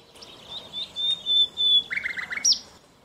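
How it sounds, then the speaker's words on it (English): Common nightingale song, a sequence of high whistled notes and rapid trilled phrases, clear and fairly close over a faint background hiss. "nightingale's voice consists of a cascade of trills, whistles, and gurgling phrases"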